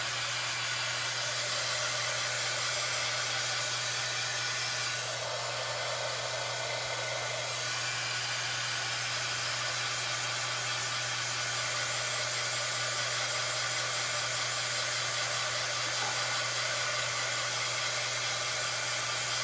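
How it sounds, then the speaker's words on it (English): A heat tool blows hot air steadily on a Dollar Tree craft tray project, a loud continuous whoosh with a low hum, briefly changing pitch midway, alone with no talking. "I'm going to go in and zap it with my heat tool"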